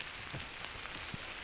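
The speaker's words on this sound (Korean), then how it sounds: "아, 이거 비야? 아, 우박이네. 우박이야." Hail and rain fall outdoors on Hallasan mountain, a dense, even patter of drops striking surfaces with a few sharper ticks standing out, steady and unbroken with no voices.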